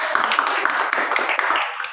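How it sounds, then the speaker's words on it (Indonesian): A group of people in a counseling session clap their hands together, a dense, close patter of claps held steady for a couple of seconds before trailing off. "Oke, tepuk tangan aja kita."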